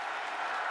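A short burst of dense crowd applause fills a wrestling arena in WWE 2K19, a steady wash of clapping with no break.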